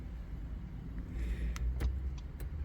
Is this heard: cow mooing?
no